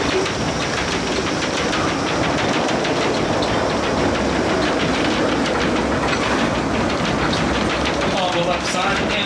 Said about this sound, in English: all around us is the Runaway Mine Train